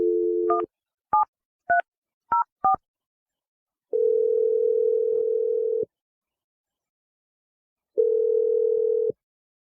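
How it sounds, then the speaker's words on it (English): A phone call being placed: a short steady tone, then a quick run of five touch-tone dialing beeps, followed by two long ringback tones separated by silence, all clean and alone. "So I'm going to dial the phone number right now."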